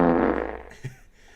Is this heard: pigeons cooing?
no